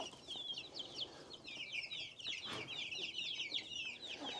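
Australorp chickens and chicks clucking and peeping together in a busy chorus, high chirps from the young birds running steadily throughout, with a brief louder squawk near the middle and no speech.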